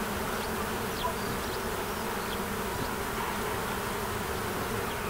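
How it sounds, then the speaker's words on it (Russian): Bees hum steadily around a fragrant blooming cherry plum in a spring village yard, a continuous close insect drone with no talk. "А рядом благоухает алыча. И пчелы исполняют весеннюю симфонию."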